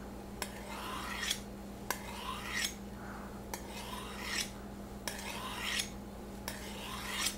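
Repeated strokes of a dull kitchen knife blade drawn across a sharpener, each a short rasping scrape with a sharp start, about five evenly spaced strokes over a faint steady hum.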